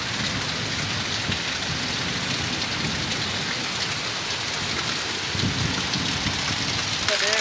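Steady, heavy rain pours down continuously, a dense hiss of drops drumming on surfaces close by, with no talking.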